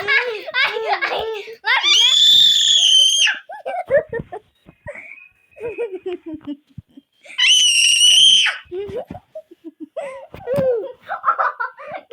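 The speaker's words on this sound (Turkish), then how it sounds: "Kardeşim de bir kere de bağırmasa yetecek." A child screams loudly in shrill, sustained bursts, twice at length, amid giggling, laughter and childish chatter in a quiet indoor room.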